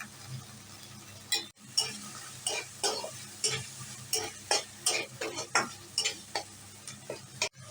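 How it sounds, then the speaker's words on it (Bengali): Taro and potato being stir-fried with spices in oil in a pan, heard as a soft sizzle under about a dozen rhythmic scraping strokes of a spatula, close and fairly quiet, with no talking. "মশলা তেল হয়ে গেছে মশলা হয়ে গেছে কচু আর আলুটা দিয়ে কষিয়ে নিচ্ছি"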